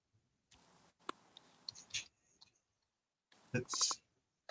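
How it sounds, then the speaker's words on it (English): Quick bursts of typing on a computer keyboard, clusters of close, crisp key clicks separated by pauses, with no talk over them. "Typing too fast, folks."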